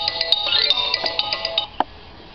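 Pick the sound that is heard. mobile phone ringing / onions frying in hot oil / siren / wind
mobile phone ringing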